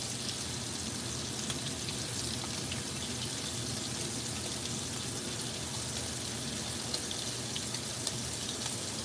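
Cod fillet pan-searing in butter, a steady, even sizzle and crackle of frying that holds at a constant moderate level with no talking.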